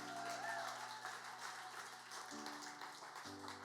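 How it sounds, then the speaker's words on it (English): Church congregation clapping during a Sunday morning service at Kingdom Church, a steady dense patter of many hands filling the room while sustained music tones play underneath. "Can we just clap our hands?"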